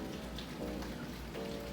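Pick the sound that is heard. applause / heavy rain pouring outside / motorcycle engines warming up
heavy rain pouring outside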